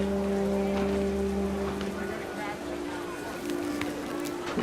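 Heavy rain pours on a tent during a nighttime hunting trip in the video game What Remains of Edith Finch, a steady hiss of drops with a low tonal hum underneath.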